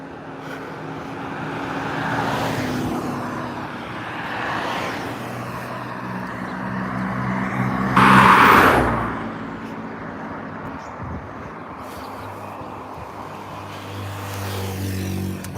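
Road traffic on a dawn walk: a steady roar of vehicles with one car passing loudly and close by midway, then fading as more traffic rumbles on in the distance.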